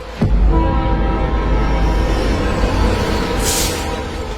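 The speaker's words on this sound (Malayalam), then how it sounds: "ഹുങ്കാര ശബ്ദത്തോടെ അടുത്ത ട്രാക്കിലൂടെ മറ്റൊരു ട്രെയിനും കടന്നുപോയി" A loud train rumbles past close by, its horn blaring a long, steady tone over the heavy roar of the wheels.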